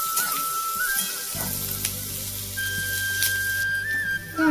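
Spices for tempering crackle and sizzle in hot oil, a steady fizzing hiss with a thin whistling tone running through it.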